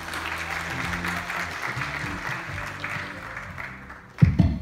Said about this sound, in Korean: 여러분 힘찬 박수로 환영해 주십시오